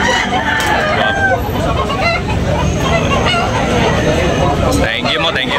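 Kanawayon gamefowl roosters crow amid loud farmyard clucking and babble. Someone talks over the calls, which sit close and continuous across the clip.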